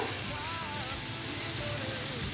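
Chopped garlic sizzles steadily in a hot pan while being stirred, a continuous bright hiss with faint scraping, moderately loud and close throughout.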